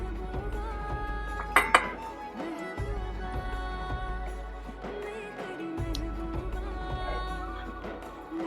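Chicken donne biryani, naati style, is stirred in a pot, with soft scraping and occasional clinks of a metal spoon against the vessel close by over a low steady hum, two sharper knocks standing out early on.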